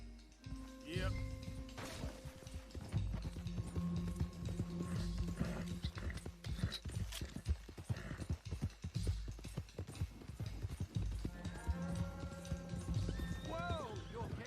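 Horse galloping in Red Dead Redemption 2, rapid rhythmic hoof clip-clops with whinnies and neighs, close and steady under game dialogue and speech.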